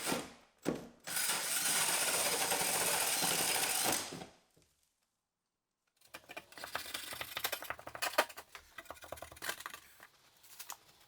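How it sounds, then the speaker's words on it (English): A loud, steady broadband power-tool whine for about four seconds as a big hole is drilled through a wall, then a pause, followed by rougher, uneven grinding and clattering bursts. "I could then reinstall the cabinet and finally drill that big hole."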